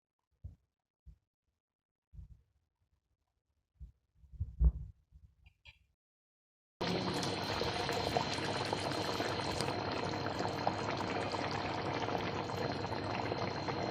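Fish curry simmers covered on a stove: a few soft bubbling pops at first, then a steady, dense bubbling that carries on without pause.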